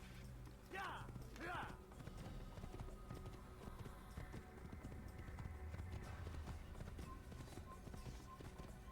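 Hooves clip-clop steadily on a horse in the Assassin's Creed video game, with a brief neigh near the start, all mixed under game music and ambience at a low level.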